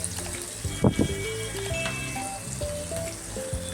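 Thinly sliced onion, carrot and capsicum sizzle softly in hot oil tempering while cooking a mushroom fry, a steady gentle crackle with a few wetter pops and a faint background tune.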